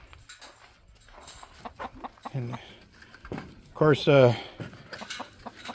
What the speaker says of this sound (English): So yeah, everything's doing fine here in the chicken coop.